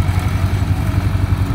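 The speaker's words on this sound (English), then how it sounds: "Tractor runs good. Runs out strong." An International 454 tractor with a 50-horsepower engine running close by while pulling a bush hog mower, a loud steady low chugging drone with no voices.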